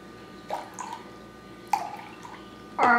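Very cold water is poured into a measuring cup in three short, splashing bursts separated by quiet pauses, with the last pour fuller and steadier.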